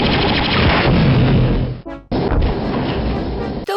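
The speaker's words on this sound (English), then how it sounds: "The explosions can get crazy." Loud, sustained crashing blasts of video game explosions from Star Wars: Dark Forces roar continuously, broken by one brief near-silent gap before the booming resumes.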